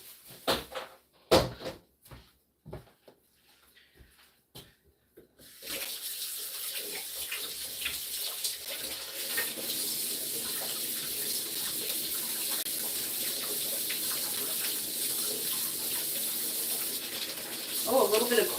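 Tap water runs steadily in a home kitchen while vegetables are rinsed for vegetable soup, a continuous close splashing hiss after a few scattered knocks and clatters at the start.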